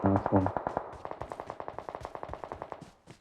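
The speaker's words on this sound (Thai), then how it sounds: "ได้ยินเสียงคนยิงกันฝั่งนู้น" Video game shootout with rapid automatic gunfire: a long stream of quick, evenly spaced shots, moderately close, with a voice speaking briefly at the start.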